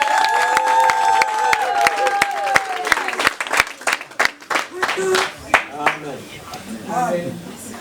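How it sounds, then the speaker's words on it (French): A church congregation applauds with loud clapping and some cheering while music plays, and the claps fade into singing voices toward the end. "Est-ce qu'on peut les applaudir s'il vous plaît?"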